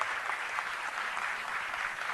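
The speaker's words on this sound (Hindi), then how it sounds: "इतनी हल्की ताली बजाओगे तो भाई" Audience applause at a Women's Day event in a hall, a steady even wash of clapping at moderate level that continues alone for about two seconds.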